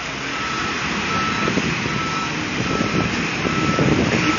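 A sanitation truck backs up during hurricane cleanup in Belle Harbor, Rockaway Beach, NY, its reversing beeps sounding steadily over a loud, continuous engine rumble and street noise.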